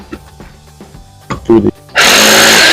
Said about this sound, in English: So you can see the drilling that I'm using this time around.